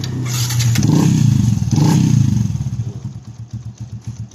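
A Sniper 150 motorcycle engine revs loudly twice, then settles into a rough, pulsing idle with a steady chugging rhythm.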